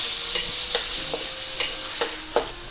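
Food is sautéed in a pan, giving a loud, close, continuous sizzle with about five soft regular scrapes of the spatula and no talking.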